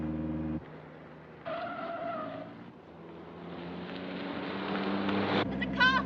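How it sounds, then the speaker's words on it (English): A car engine drones and revs on a mountain road, rising in pitch as it accelerates, with tire noise and a brief squeal near the end, heard close and continuous. "There's a car following us."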